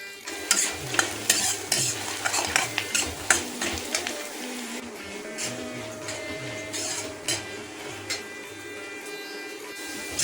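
Ingredients roasting in a pan in a hill-village home kitchen, stirred with a spoon: a steady run of quick scraping strokes over a soft sizzle, with a low hum underneath, close and fairly quiet.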